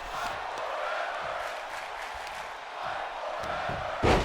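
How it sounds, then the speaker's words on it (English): An arena crowd in the WWE 2K25 wrestling video game chants "fight forever", a broad, rolling roar of many voices with rhythmic surges and a sharper swell at the end. "I don't know if you hear the crowd"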